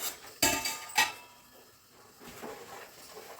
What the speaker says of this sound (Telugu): మళ్ళీ మూత పెట్టండి.